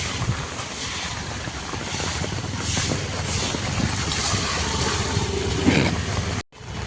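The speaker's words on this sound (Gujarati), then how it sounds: "અત્યારે પવન છે" Wind blowing hard outdoors during monsoon rain beside a flooded main road, a loud, steady broadband roar with gusting swells that buffet the microphone, then cuts off abruptly near the end.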